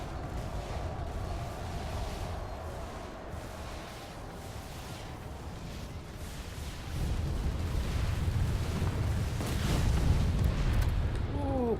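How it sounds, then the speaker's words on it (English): Explosions in the Planetside 2 video game: rumbling blasts and booms over a continuous battle din, fairly faint at first and growing heavier and denser toward the end. "Lots of explosions. Just what I like to see."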